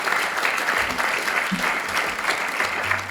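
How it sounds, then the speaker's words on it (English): An audience at a student talk event bursts into sustained, even applause, dense clapping filling the room for the full stretch without a break. "Give him a round of applause."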